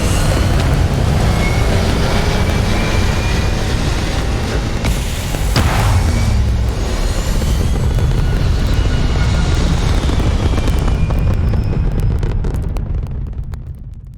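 Spaceship engines in the video game Starfield roar loudly and continuously during a launch to orbit, a dense, rumbling blast with deep bass that surges midway and fades slightly at the end.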